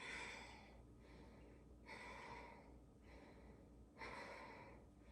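Slow, deep breathing during an intense core yoga flow, with long, airy inhales and exhales repeating about every couple of seconds, close and fairly soft.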